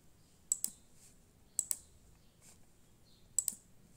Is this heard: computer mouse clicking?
yes